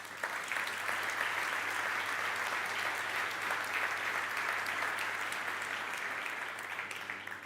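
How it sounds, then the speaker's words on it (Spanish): Sustained applause from the audience at the presentation of the Baleària fast ferry 'Mercedes Pinto', a steady, full wash of many clapping hands at even loudness for several seconds, with no speech. "es un gran logro que se merece un fuerte aplauso"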